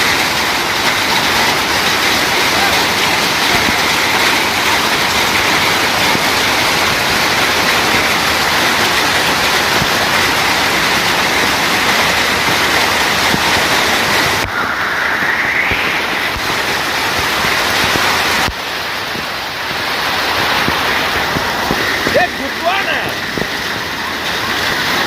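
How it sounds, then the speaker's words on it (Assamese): A heavy early-morning hailstorm with rain pounds down in Jamugurihat, making a dense, loud, unbroken roar. The intensity shifts partway through, and the sound stays strong to the end. "ইমানেই শিলাবৃষ্টি হৈছে আমি আচলতে জীৱনটোত এনেকুৱা শিলাবৃষ্টি দেখা নাই"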